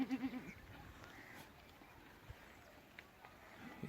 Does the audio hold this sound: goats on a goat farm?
yes